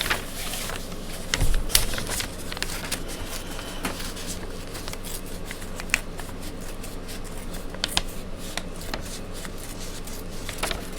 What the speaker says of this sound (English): So we're just gonna tear this.